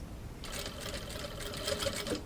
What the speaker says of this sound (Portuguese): E fazendo a nossa costura.